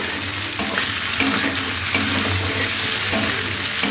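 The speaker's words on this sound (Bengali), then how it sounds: "আলু কুমড়ো আর পুঁইটাটা ভাজা হয়ে গেছে" Potato, pumpkin and Malabar spinach fry in a pan with a loud, continuous sizzle, punctuated every half second or so by sharp scrapes of stirring.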